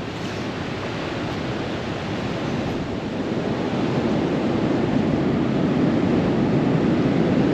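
Storm waves surge over a seaside street in Lazarevskoye, Sochi, making a loud, continuous roar of rushing water that swells slightly toward the end, with no voices.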